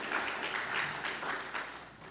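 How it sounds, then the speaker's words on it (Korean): A church congregation at a Christmas Sunday service applauds to welcome a returning member, steady dense clapping filling the room throughout, moderately loud and even, with no talk standing out over it. "예, 한번 예 박수로 환영합니다."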